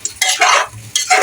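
Chicken and thin-cut potato pieces stirred and fried in a pan, loud close scraping bursts of the spoon in uneven strokes over a light sizzle, no talking.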